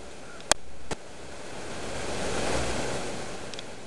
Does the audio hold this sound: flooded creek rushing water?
yes